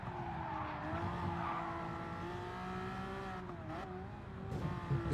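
Race car in a racing video game sliding close to a spin: a sustained wavering tire squeal over a steady engine drone, moderately loud and continuous, rising slightly toward the end with no talk over it.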